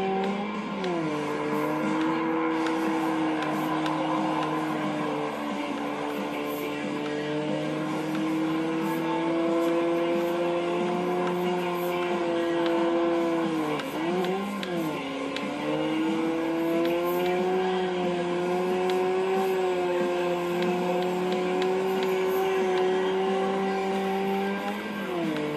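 A Ford race car in the racing game Ford Racing 2 holds a steady, loud engine drone for the whole stretch, its pitch rising and dipping slightly with throttle and shifting, with a brief dip midway.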